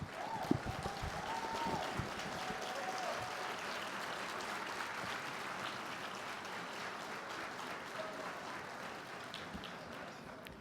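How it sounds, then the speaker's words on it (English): An audience keeps up sustained, dense clapping and applause throughout, steady and fairly loud, with scattered brighter claps and faint voices mixed in. "if y'all would just keep the clapping going"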